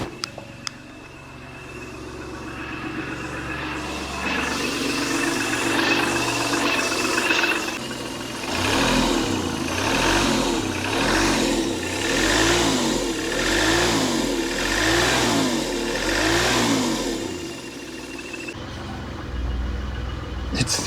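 A six-cylinder engine in a Citroën XM barn find idles roughly after 20 years without running. It revs in a series of rising and falling surges, loud and close, and the uneven running suggests not all cylinders are firing.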